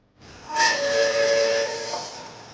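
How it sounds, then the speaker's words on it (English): A violin bow drawn across the edge of a sand-sprinkled metal plate gives one sustained, shrill ringing squeal with steady harmonic tones and a hissy edge, rising abruptly and holding for about a second and a half before fading. "we're going to play the plate with the violin bow"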